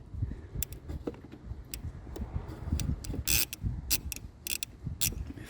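A hand ratchet with a 24mm socket turns an already-loosened bolt on a Saab 9-3, giving rapid clicking pawl bursts and light metallic clinks at close range, with no talk.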